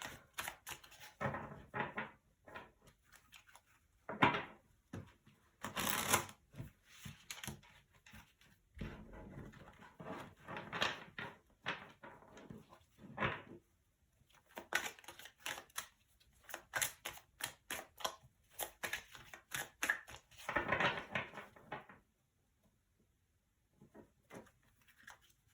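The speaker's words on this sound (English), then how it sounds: "So let's give the cards a good shuffle." Tarot cards are shuffled in irregular bursts of crisp riffling and patter, with quiet pauses between them. No one speaks.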